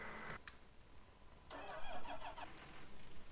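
A diesel engine on forestry machinery, given starting fluid in the air filter, cranks with a brief burst, pauses, then grinds and chugs through a rhythmic stuttering crank toward catching, fairly quiet.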